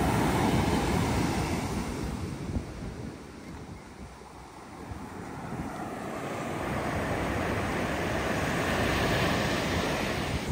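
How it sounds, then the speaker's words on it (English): Ocean waves at high tide wash ashore in a steady, loud roar with wind buffeting the microphone, swelling and easing over the stretch with no voices. "I think it's high tide where we are."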